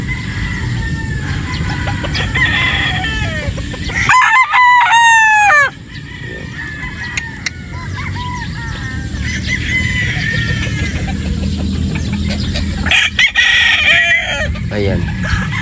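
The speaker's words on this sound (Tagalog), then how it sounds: "Guwapong manok din ito." A rooster crows loudly nearby at a game farm in Batangas, with clucking fowl and steady background noise throughout, and a second crow later on.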